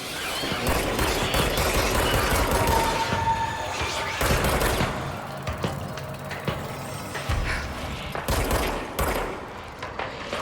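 In the video game Control, gunfire erupts in heavy, repeated bursts and rapid volleys, loud and close, interrupted by short pauses, with a voice speaking briefly between shots.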